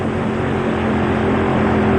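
A drag racing car engine at the staging beams of a 1996 IHRA Winternationals event drones loud and steady, a sustained heavy roar with constant low rumble and no break.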